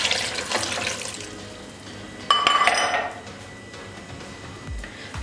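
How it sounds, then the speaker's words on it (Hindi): Water is poured into a pot of mutton with salt, turmeric and red chili powder, a short splashing burst with metal clinks amid quiet kitchen noise. "पानी ऐड करेंगे"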